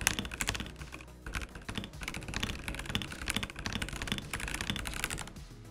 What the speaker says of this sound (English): I needed the function keys, I needed the arrow keys, and let me tell you, I absolutely love this keyboard. It sounds amazing.